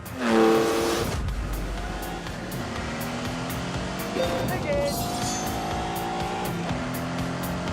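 Lamborghini Countach with a 48-valve 5.2-litre V12 driving past, a loud engine roar that swells and then holds steady with shifting revs, while someone talks over it.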